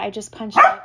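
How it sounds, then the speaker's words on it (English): A dog barks once, a short sharp bark close by, right after a woman's brief speech, with a low hum underneath. "I apologize for the dog barking"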